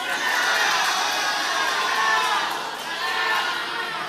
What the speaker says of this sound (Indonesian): kami silakan kembali kepada pendukung paslon nomor urut 1 untuk memberikan tepuk tangan kepada paslon yang